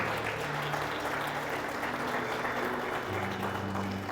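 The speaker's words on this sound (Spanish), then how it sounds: "Sí, aplaudan." A church congregation applauds in a steady, dense burst of clapping that fills the room, with faint sustained organ or keyboard tones underneath and no speech.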